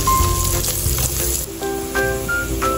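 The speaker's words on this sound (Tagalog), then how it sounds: "gisa-gisa lang natin yung luya at saka garlic" Ginger and garlic sauté in a pan with a loud, close, steady sizzle and a few tonal clinks from a utensil, with no voices over it.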